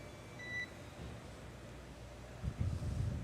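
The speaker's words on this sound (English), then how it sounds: "you'll be hearing those very characteristic beeps" A brief, faint electronic radio communication beep between SpaceX Dragon and ground control sounds over soft hiss, with a low rumble building near the end.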